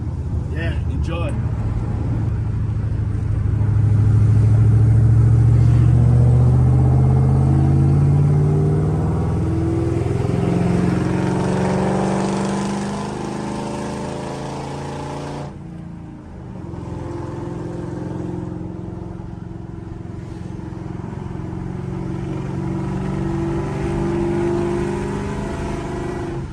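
A tuned car engine, now running correctly, revs up and down in sweeping rises and falls, loud and close, with a brief drop near the middle before it idles and climbs again.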